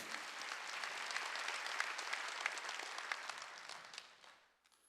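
A church congregation claps together during a worship service, a full sustained round of applause from many people that fades out at the end.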